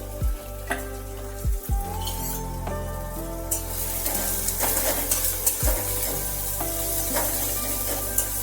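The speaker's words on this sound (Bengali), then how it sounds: "একটু ভালোভাবে নেড়ে ছেড়ে নিতে হবে, যেটাকে আমরা বলি সটে করে নেওয়া" A chicken mince filling with green chillies sautés in a pan: a continuous close-up sizzle with the scrape and clink of a spatula stirring now and then, and no talking.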